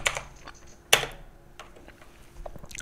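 Keys on a computer keyboard are struck in a short, quick burst of close, crisp clicks, a few separate taps spread over a couple of seconds.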